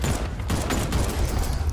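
Rapid bursts of gunfire from the Batman Arkham Knight video game crackle continuously, dense and loud, with no talking over them.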